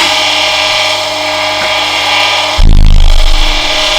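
Tool and cutter grinder with a thin wheel running at a steady high-pitched whine, then a sudden louder grinding surge partway through, close and without speech.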